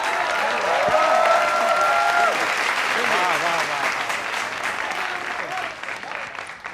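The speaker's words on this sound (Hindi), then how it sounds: "देखा कितनी अच्छी तालियां बजी है।" A political rally crowd in Bengal applauds loudly and steadily throughout, with crowd noise and a voice briefly rising over the clapping.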